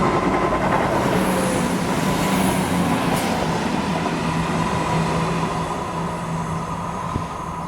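A passenger train from Inverness passes South Gyle station close by, a loud, steady rumble with a constant mechanical whine running through the whole stretch, no voices.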